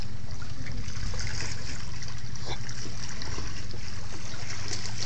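Water trickles and splashes steadily beside a dock, a continuous close dribbling wash with low lapping underneath and no voices.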